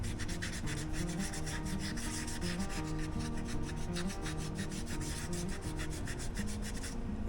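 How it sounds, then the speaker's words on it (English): Steady back-and-forth hand sanding of epoxy on a mountain bike fork, a rhythmic scratchy rubbing at a quick even pace, close and continuous with no talking. "I've been sanding on this for a little while."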